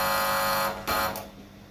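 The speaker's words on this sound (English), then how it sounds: "That's the alarm." An alarm buzzer blares in a loud steady electronic tone, cutting out briefly, returning, then fading away over under two seconds, with no talk over it.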